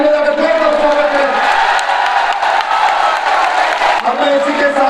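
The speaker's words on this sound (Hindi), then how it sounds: "माननीय बहन जी का ताली बजाकर जोरदार स्वागत करें" Large crowd at a Bahujan Samaj Party election rally in Sikandrabad applauding and cheering to welcome Mayawati, a dense continuous roar of clapping and shouts over an amplified voice on the loudspeakers.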